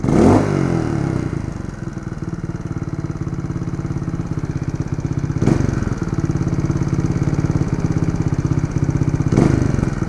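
A 4-stroke trials motorcycle engine runs steadily while riding through soggy mud, a loud continuous thumping drone with a couple of sharp rev bursts, close by and without talk.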